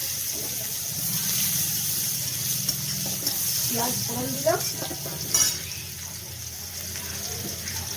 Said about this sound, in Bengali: এরপরে আমি এই কালো জিরে দিলাম, কালো জিরে ফোড়ন দিলাম, আর এই পেঁয়াজ ফোড়ন দিলাম।